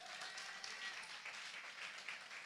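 Congregation at a church service clapping in applause, a faint, distant, steady patter of many hands with no clear voices.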